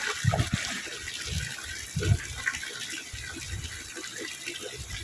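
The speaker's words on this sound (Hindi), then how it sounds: "ये देखो कितना पानी भर रहा है छत पे, वहां पे उधर को जा ही नहीं रहा पानी" Water pools and flows across a flat house rooftop that is failing to drain, a close, continuous splashing and trickling with a few louder gushes.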